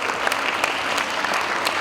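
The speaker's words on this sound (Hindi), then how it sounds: "इसके लिए तो दोबारा ताली बजाओ" A crowd at a Patanjali yoga gathering claps for a young schoolgirl, with dense, steady applause filling the short moment and no voices standing out.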